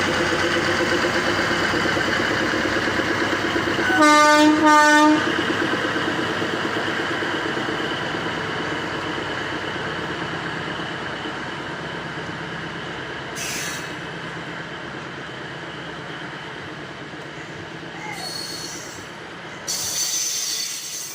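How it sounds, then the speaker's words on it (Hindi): A crowded local passenger train pulls away from a station on a Jogbani–Siliguri route, producing a steady rolling rumble with a short burst of wheel squeal near the start and faint clanks later. "ये देखिए अब कटिहार से जाने वाली पैसेंजर ट्रेन यहाँ से अपना डिपार्चर ले चुकी है।"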